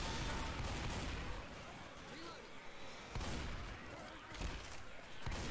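Left 4 Dead 2 shotgun blasts ring out in a chaotic co-op fight, heavy booming shots at irregular intervals over dense game noise and voices.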